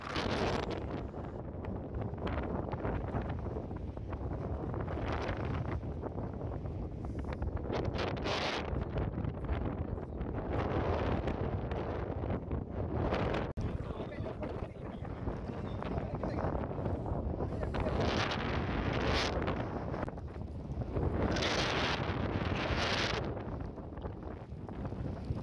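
Cool wind blows steadily at a hillside dam under light drizzle, a broad continuous rush buffeting the microphone for the whole stretch, with gusts swelling louder toward the end and no voices.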